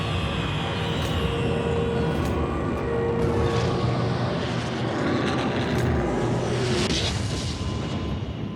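Luftwaffe warplanes during a bombing raid on French, Belgian and Dutch airfields, a continuous droning roar of aircraft engines with scattered faint booms and crackles, no talk.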